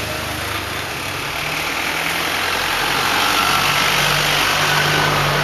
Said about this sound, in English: Hang on, more vehicles coming by.